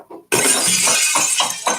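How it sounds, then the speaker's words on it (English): Glass shattering loudly up close after a brief faint knock, followed by a dense, continuous spray of breaking shards and tinkling debris that rattles on for over a second. "we're going to break the glass one more time."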